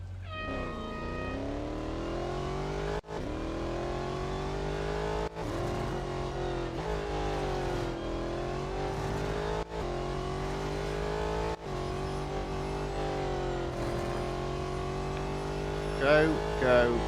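A race car engine in the Real Racing 3 video game, on an autocross run at Laguna Seca, drones steadily throughout with sustained revving tones, broken by several brief dips at gear changes, loud and continuous with no talk.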